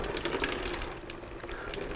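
Coolant draining from the radiator of a Honda CBR 1000RR, a steady splashing pour of liquid that runs without break, close by and fairly loud, with no voices over it.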